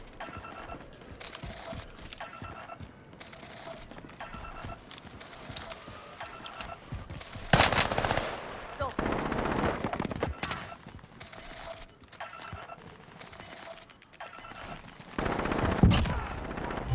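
Gunfire rattles in the video game Warzone, with bursts of shots coming in clusters over game ambience, loudest in the middle and again near the end.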